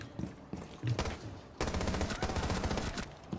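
Jackal primary weapon in a video game firing automatic bursts, a short spurt followed by a longer sustained rapid string of close, loud shots, no voices.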